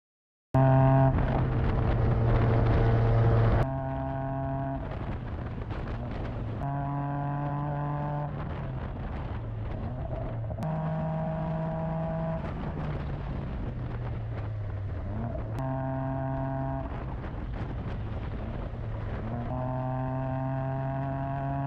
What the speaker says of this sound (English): a full 3-inch exhaust to the back, which makes the sound pretty nice, or the car sounding pretty nice